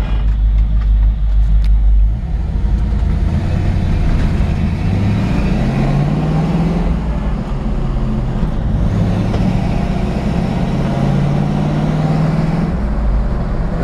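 A 1950 Ford F-1 pickup truck drives along with a steady, loud engine drone and road noise. The engine pitch rises and falls as it works through the gears, with no talking.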